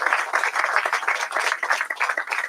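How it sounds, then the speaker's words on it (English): Audience applause at a groundbreaking event for a new Bigelow Tea facility in Louisville: dense, steady clapping from a crowd, fairly close and continuous with no talk over it. "John, can we just have a round of applause for this young man?"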